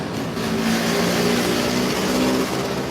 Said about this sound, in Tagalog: mas malaki pa yung tunog ng jeep kaysa sa boses ko eh